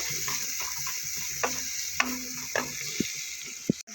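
Onion and green chili sizzle steadily in hot oil left from frying eggplant, punctuated by a few sharp clinks and scrapes of stirring.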